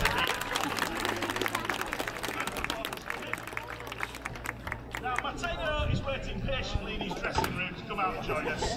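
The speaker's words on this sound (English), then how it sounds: "Give Merlin a clap as he gets to meet" Audience at a sea lion show clapping for a young sea lion, scattered applause mixed with crowd babble and a presenter talking over it, with some nearby movement and knocks.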